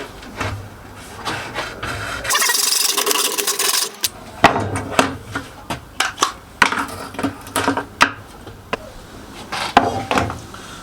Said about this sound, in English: the worn section will be cut right off. So to do that, just use a hacksaw